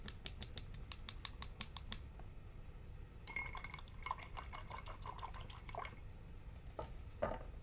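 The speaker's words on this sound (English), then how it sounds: "I'm going to wash my brush" An acrylic paintbrush swished and tapped in a water container, giving a quick run of sharp clinks against the vessel followed by gentle splashing and dripping, close and fairly quiet, with no voices.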